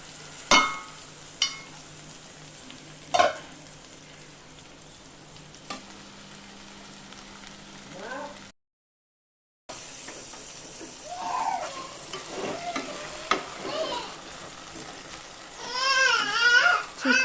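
Eggplant pieces with curry leaves frying under a lid in a pan give a soft, steady sizzle with a few sharp clinks early on, a brief gap, then busier crackling and bubbling toward the end.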